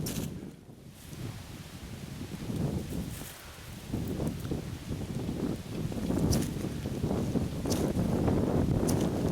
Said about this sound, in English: It is windy and cold out today.